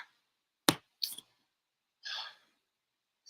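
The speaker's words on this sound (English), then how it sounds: "let's start with our dice" Dice are rolled, giving a few sharp clicks and a short rattle, then a softer, breathy clatter after a pause. The sounds are close and quiet, with silence between the bursts.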